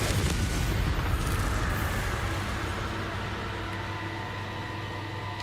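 A Confringo fire spell explodes in Hogwarts Legacy, a sustained, dense roar with a heavy low rumble that holds steadily and eases off slightly over several seconds.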